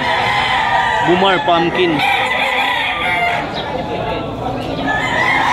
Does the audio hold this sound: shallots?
no